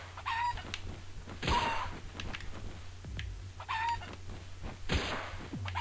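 The chicken creature in the video game Palworld clucks in several short, repeated bursts at a moderate volume, with scattered thumps and game sounds between the calls.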